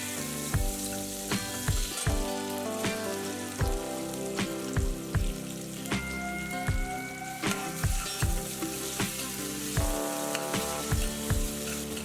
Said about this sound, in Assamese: খুন্দি থোৱা নহৰুখিনি লগতে কেঁচা জলকীয়া 4টা দি অলপ ভাজি লৈছোঁ